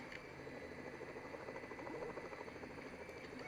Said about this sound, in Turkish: Evet helikopter havada.